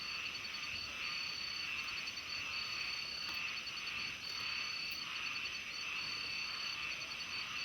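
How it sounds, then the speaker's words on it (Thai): Small frogs croak in a dense, steady chorus at night around a rain-season pond on a farm, a continuous pulsing din with chirping insects mixed in and no voices. "นอนฟังเสียงกบเสียงเขียดห้อง"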